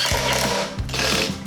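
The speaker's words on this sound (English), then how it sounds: "put 2 screws in it" A drill drives two screws into a wooden woodworking jig or template, a loud close whirring with short motor bursts and pauses, no talking.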